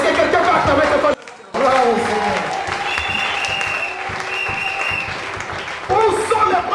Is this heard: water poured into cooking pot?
no